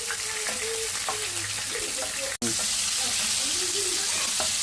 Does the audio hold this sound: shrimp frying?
yes